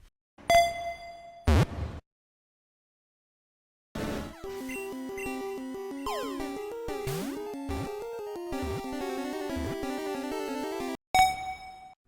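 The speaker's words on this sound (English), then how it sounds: "So this first part of the catching sound is going to make a nice counter melody." Video game catching sound: bright chiming dings and a quick rising jingle, then a short run of electronic melodic blips and bends, ending on another ringing ding, clear and alone.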